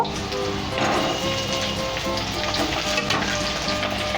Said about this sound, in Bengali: তাই আমি আলুগুলো ভেজে নেব